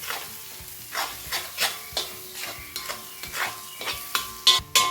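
A spoon scrapes rhythmically around a pan, about a dozen strokes, over a soft steady sizzle of frying egg masala with cashews, close up.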